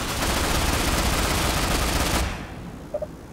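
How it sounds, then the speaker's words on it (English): Automatic gunfire in the shooter video game Ghost Recon Online, a loud, dense, continuous burst of rapid shots for about two seconds that stops abruptly, leaving a quieter tail with a couple of faint blips. "Where's all the shooting coming from?"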